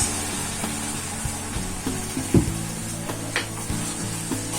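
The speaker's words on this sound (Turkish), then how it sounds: "İki su bardağı su ekliyorum." Hot pan of helva sizzling steadily as two glasses of water go in, with occasional soft scrapes and taps of stirring over the continuous hiss.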